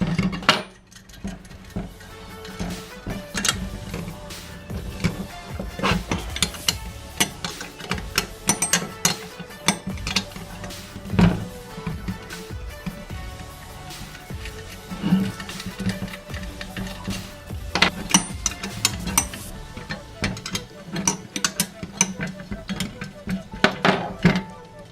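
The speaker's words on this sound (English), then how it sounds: "we're gonna use the same 13mm wrench" A 13mm wrench works the bolts off a Jeep Wrangler's radiator clutch fan, making irregular metallic clicks, ratcheting taps and clunks close by, with a hum of background noise between them.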